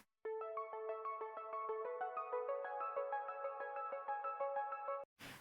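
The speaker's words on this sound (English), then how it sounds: "I laid up the arpeggiated synth from chorus 1." Left layer of an arpeggiated synth from a pop chorus, bright plucky notes stepping quickly up and down in an even rhythm, clean and steady for about five seconds before stopping abruptly, with nothing else playing.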